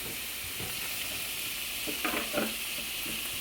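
Drained spaghetti hitting a hot pan produces a steady broadband sizzle, with a few louder crackling bursts as the pasta settles in, heard up close with no voices.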